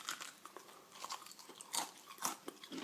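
Crispy fried chicken is bitten into with repeated close, crackly crunches and chewing sounds, loud and alone without any talking.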